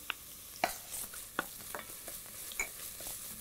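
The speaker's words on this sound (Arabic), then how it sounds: "هضيف البصل، هقلب البصل شوي، هضيف الثوم" Onions stirred and sautéing in a pan for a white bean stew, with scattered utensil scrapes and knocks over a faint, quiet sizzle; no talking.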